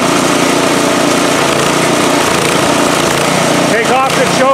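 A Husqvarna snowblower engine, previously surging from running lean, runs steadily with the choke applied, a loud continuous buzzing drone with a voice speaking briefly near the end.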